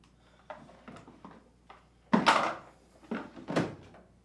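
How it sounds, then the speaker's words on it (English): A detergent dispenser drawer is slid back into an LG Kenmore front-load washer, giving a series of plastic clicks and knocks that build to a louder sliding clunk and a few firm taps. "Then, reinstall the detergent dispenser's drawer."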